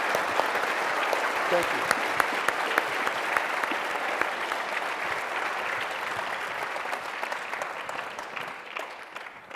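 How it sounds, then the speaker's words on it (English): A crowd at the 2024 Medal of Honor Forum applauds honored heroes; broad, continuous clapping fills the room at moderate level, slowly tapering toward the end, with a brief spoken thanks over it. "Let's give these heroes a round of applause."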